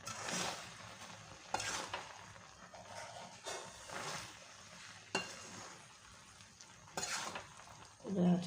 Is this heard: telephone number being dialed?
no